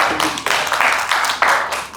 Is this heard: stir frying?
no